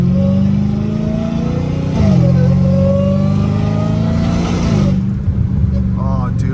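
A catless Dodge Hellcat Redeye on the street idles with a deep, loud exhaust rumble and rises in two short revs, with a voice nearby.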